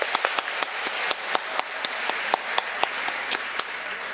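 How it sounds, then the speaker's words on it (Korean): A church congregation applauds the pastor at a retreat's opening worship service, a steady wash of many hands with sharp individual claps standing out, fairly loud and close, with no talking over it. "다시 한번 우리 목사님께 감사 박수 한번 드리겠습니다"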